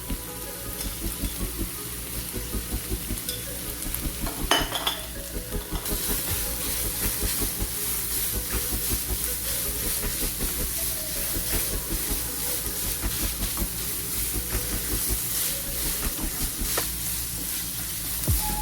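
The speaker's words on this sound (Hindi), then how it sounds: "इसको 2 से 3 मिनट तक अच्छी तरह से भून लेंगे दोबारा से" Minced meat with ginger garlic paste frying in a pan, giving a loud, steady, close sizzle and hiss that holds the whole time, with a few faint stirring scrapes.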